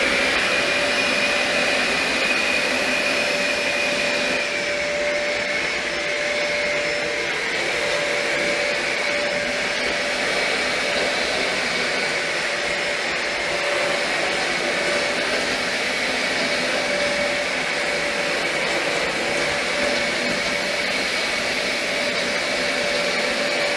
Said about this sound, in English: If you pay close attention, you can hear the brush roll actually stop